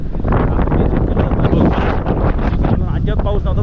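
Strong wind buffets the microphone on a hill trek near Kankeshwar, a loud, constant roaring rumble with voices faintly audible beneath it.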